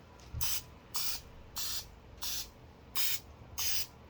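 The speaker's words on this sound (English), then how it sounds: "I'm definitely gonna use cooking spray" Six short hissing spray bursts at an even rhythm, close and clear, with quiet pauses between each spritz.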